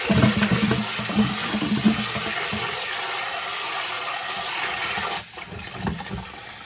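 Water running steadily from a kitchen tap into a sink while food is rinsed, a continuous close splashing rush that cuts off near the end, followed by a quieter room.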